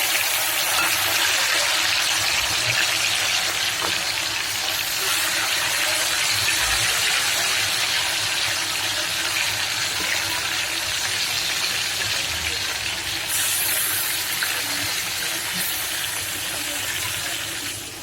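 Chicken pieces for a cook-style roast go back into hot oil for a second fry, giving a loud, steady, unbroken sizzle that runs the whole time with no speech.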